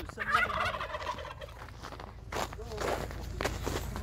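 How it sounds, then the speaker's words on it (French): Turkeys gobble in rapid warbling bursts nearby in the Ukrainian countryside of Transcarpathia, with footsteps shuffling on the ground between calls and outdoor background noise. "On va aller voir les dindons."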